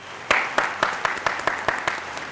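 A studio audience at a television drama review show claps in a steady, even rhythm, about nine sharp claps in a row, close and clear.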